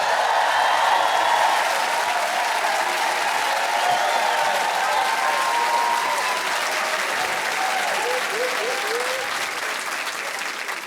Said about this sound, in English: So please raise the roof and make some noise for Mark Flynn.